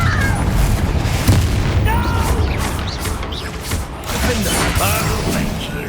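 Confringo explosion spells burst repeatedly in the Hogwarts Legacy video game, loud booming blasts layered over dense combat noise and crashing effects, with a voice casting amid the chaos.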